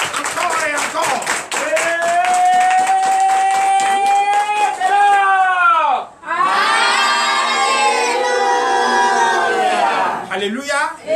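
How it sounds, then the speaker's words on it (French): A Sunday church congregation in Comè, Benin, claps in rapid rhythm and shouts loudly. After a brief lull, the crowd bursts into loud cheering and ululation close by. "Je veux que vous applaudissez le Seigneur Jésus."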